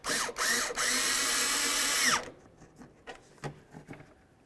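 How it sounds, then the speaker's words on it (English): Power drill driving screws into the grille of a 2009–2020 Dodge Journey, two loud close bursts of whirring with a short break between, then quiet clicks and handling noises. "now we can go ahead and start putting in our screws"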